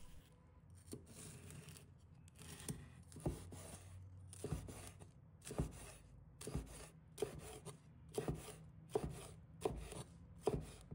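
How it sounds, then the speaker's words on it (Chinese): A knife chops red chili peppers into small pieces on a cutting board, a series of crisp, close taps in uneven bursts with short pauses between them. "接下来我们准备红辣椒，把它切成小块。"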